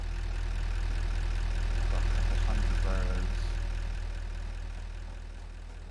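Loud, steady engine drone in the factory-building video game Satisfactory, a low continuous rumble filling the clip as a person briefly talks over it.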